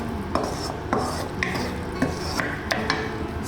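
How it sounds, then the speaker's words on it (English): A spoon scrapes and clinks against a pan while paneer curry is stirred, a steady series of short metallic taps and scrapes roughly every half second over a soft sizzle. "Mix it all in."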